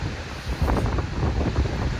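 Strong wind on a cruise ship deck at sea off Alaska buffets the microphone in loud, rumbling gusts, with a steady rushing roar underneath.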